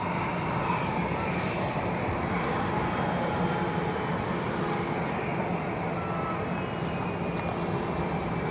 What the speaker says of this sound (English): Norwegian just arriving in the background from Stockholm, Arlanda